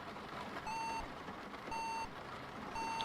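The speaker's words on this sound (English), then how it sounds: "Yeah, it's just going to beep a few times." A computer beeps repeatedly during a DOS build, three short, evenly spaced electronic tones sounding faintly over a steady background hum.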